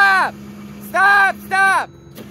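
A stuck vehicle's engine revs hard in three surging bursts over a low steady idle, near and loud, each roar rising and then dropping away.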